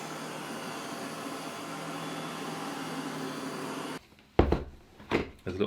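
A Deebot OZMO 920 robot vacuum runs as a steady broadband hum for about four seconds. It then cuts off, followed by a few close clunks and knocks.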